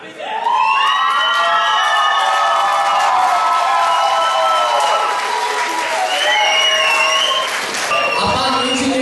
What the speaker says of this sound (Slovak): veľký potlesk pre nich